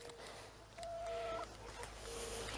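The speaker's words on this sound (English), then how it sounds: "I know for a fact there's a chicken back here, because I literally just heard it." A buff chicken clucks in a few short, moderately close bursts outdoors, set against steady low background noise.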